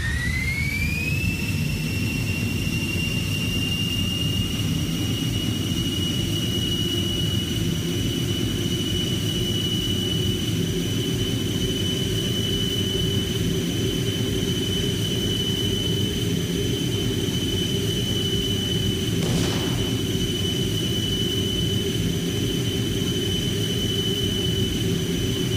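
Fighter jet engine in a mobile video game: a steady, loud synthetic drone with a high whine that climbs at the start and then holds level, with a brief swoosh near the end.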